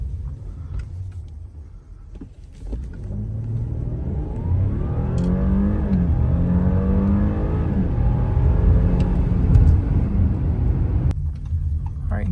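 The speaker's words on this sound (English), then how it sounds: "I'm gonna go ahead and do a 0 to 60 for you." A 2024 Audi A6 S Line quattro accelerates hard from 0 to 60, its engine note climbing steadily through rising pitch sweeps as it gathers speed. The rumble stays loud and continuous throughout, then drops off abruptly near the end.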